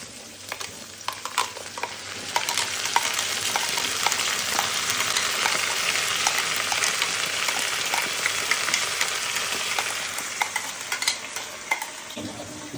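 Onions browned in hot oil sizzle steadily as ground spices and turmeric go in for a mutton curry, with a continuous close frying hiss and occasional stirring scrapes, no voices.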